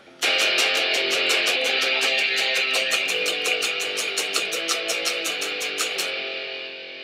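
Bright strummed guitar chords ring out in a quick, steady rhythm, moving through a progression before the final chord fades, with nobody speaking.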